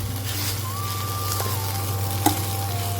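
Stuffed chillies with their spiced filling sautéing in a pan for a Maharashtrian bharli mirchi dish, giving a steady close sizzle with a low constant hum beneath, a thin tonal whine running across and one brief clink near the end.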